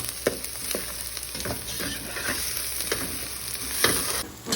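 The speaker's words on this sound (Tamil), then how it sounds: "கீயில் வந்துட்டு ஆனியன்ஸ் வந்துட்டு ஃப்ரை பண்ணுறோம்." Onions frying in ghee for chicken biryani, a dense steady sizzle with periodic scraping stir strokes from a spoon in the pan, close and loud with no talking.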